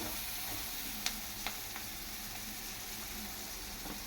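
Boiled pieces sauté in masala, giving a soft, quiet, steady sizzle with a few faint clicks of a spoon against the pan.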